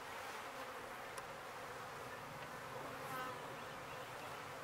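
Dense, steady buzzing of honeybees swarming around an open hive colony with frames full of nectar and larvae, close and continuous throughout with no talk.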